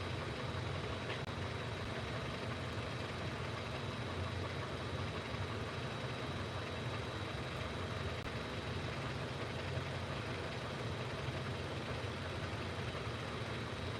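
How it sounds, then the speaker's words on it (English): A car engine idles steadily with LIQUI MOLLY engine flush running inside it, a faint, constant low rumble with a thin whine, heard alone without talk. "It's been 18 minutes so far for LIQUI Molly running inside my engine."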